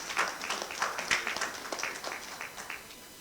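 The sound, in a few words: audience applause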